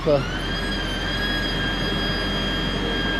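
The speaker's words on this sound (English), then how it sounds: "Yeah, that sounds like a pump, yeah." A steady mechanical drone hums continuously with a whining high tone, like a pump running on a nearby vehicle, loud and unchanging throughout.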